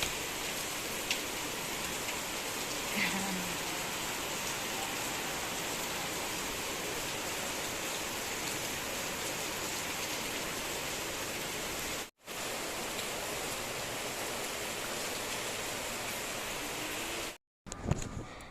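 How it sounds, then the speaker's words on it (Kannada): Heavy rain pours steadily in a dense, even hiss with no talk, broken by two brief silent gaps near the end. "ಮಳೆ ಜೋರಾಗಿ ಬರ್ತಾ ಇತ್ತು"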